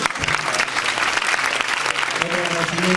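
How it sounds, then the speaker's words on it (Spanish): A crowd applauds at a live show in Ceutí in 2008, honouring the sound technician. The clapping is dense and steady for the whole stretch, with a voice talking over the end. "Un aplauso grande para alguien en el sonido"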